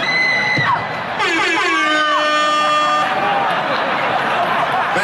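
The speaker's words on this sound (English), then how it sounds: "That air horn always pushes the joke through." Loud comedy air horn sound effect blasting over a live stand-up crowd, a long sustained tonal honk with a falling tail, cheering and crowd noise throughout.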